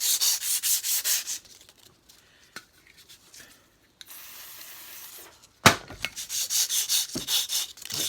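Rhythmic back-and-forth rubbing of polishing paste through lacquer on a Yamaha XS 500 motorcycle part, close and scratchy in steady strokes, pausing to quieter fiddling before the strokes resume.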